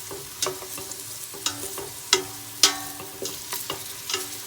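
Vegetables frying in a pan for a shepherd's pie, sizzling softly while a spoon stirs and scrapes in several sharp, irregular strokes, close and with no talking.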